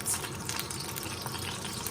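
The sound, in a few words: oil sizzling in a hot wok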